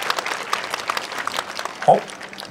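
A crowd applauds steadily at the Kyoto Sakura Yosakoi 2019 dance festival on Jingu-michi, a dense patter of many hands with a brief louder voice-like burst near the end.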